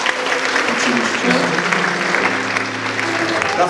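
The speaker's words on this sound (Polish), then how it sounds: "Wielkie brawa, oczywiście." At a concert, an audience claps for a keyboard player as the band members are introduced. The applause is steady and moderately loud, and some talk and sustained tones run underneath.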